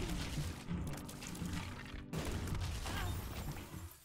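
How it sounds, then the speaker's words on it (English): Missiles firing and exploding in The Binding of Isaac video game, a dense flurry of rapid launch and blast effects packed over game music, with a brief break midway before the barrage resumes. "Look at those missiles go, baby."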